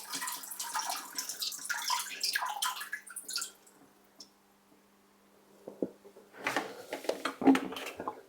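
Water splashes and pours from a 100-litre aquarium into a bucket, a close trickling rush that fades to quiet before sharper splashes and drips return.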